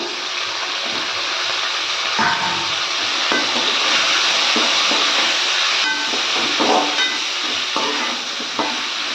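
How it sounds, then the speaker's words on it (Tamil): Boiled bitter gourd tipped into a hot frying pan of sautéed fish, giving a loud, steady sizzle with stirring scrapes and clinks throughout, with no talking. "இந்த டைமில் நாம் ஆல்ரெடி வேக வச்ச பாகக்காய் சேர்த்துக்கலாம்"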